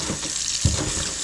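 Water runs steadily into a bucket, a continuous close splashing rush with a brief heavier splash midway and no talk.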